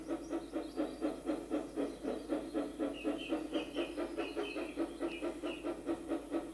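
Thomas the Tank Engine, a steam locomotive in a video game, chuffs in a steady rhythmic pulse of puffing steam bursts, repeating evenly and fairly close with a hiss running through.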